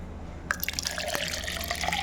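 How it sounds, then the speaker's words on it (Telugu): Water poured into a container in a kitchen, beginning abruptly after a brief silence with splashing, trickling and dripping close by. "నేను దీంట్లోకి వాటర్ తీసుకుంటున్నా"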